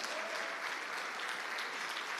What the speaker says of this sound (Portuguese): Aplauda Ele, oh glória.